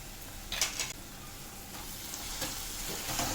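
Masala with tomato paste frying in oil for palak paneer, a soft continuous sizzle with a few brief utensil clinks near the start, quiet and close, no talking.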